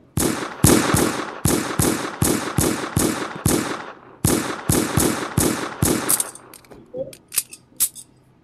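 Gunshots in Roblox Brookhaven fire in a steady, rapid series of loud, sharp cracks, about a dozen and a half evenly spaced, then trail off into a few scattered quieter shots.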